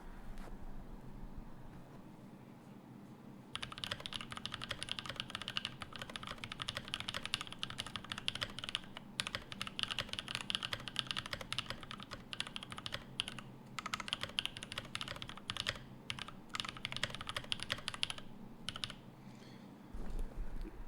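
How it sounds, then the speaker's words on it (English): A mechanical keyboard fitted with foam carries a sustained typing test: dense, steady clacking that runs for most of the stretch after a quiet opening, heard close over a low background hum. "All right, so on to the typing test."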